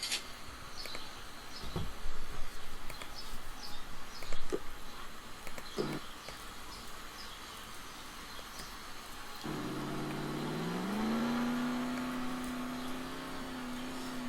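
Lamborghini Centenario hypercar in the Roblox game, first clicks and scattered thumps, then an engine note that rises and holds steady as boost kicks in, moderately loud and alone.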